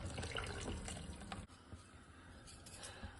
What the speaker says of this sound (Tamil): தேவையான அளவு தண்ணி சேர்த்துக்கிறேன்